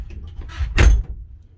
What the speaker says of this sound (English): So this is a heavy door and you really have to pull it tight.